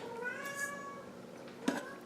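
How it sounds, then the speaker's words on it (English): A pet cat meows in a home kitchen during brownie baking, giving a drawn-out tonal cry early on and a second short meow near the end, fairly close and moderately loud. "Can you guys hear my cat?"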